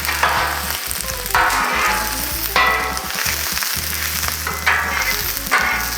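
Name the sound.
onions frying on a Blackstone griddle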